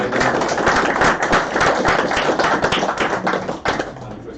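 An audience at a motor club awards night gives a sustained round of applause, dense clapping that stays loud and steady for about four seconds with a slight dip near the end.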